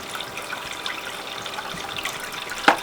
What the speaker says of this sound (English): Let's just fire up the sluice.